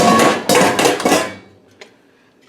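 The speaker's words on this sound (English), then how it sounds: "Then we're going to put a lid on this." A metal lid set onto a pot of simmering pepper steak with vegetables, giving a few loud clanging clanks in quick succession that ring out and fade, then a light tap near the end.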